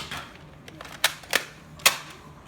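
A toy Nerf gun being loaded and fired: a few sharp plastic clicks and snaps in quick succession, close and fairly loud, with no talking.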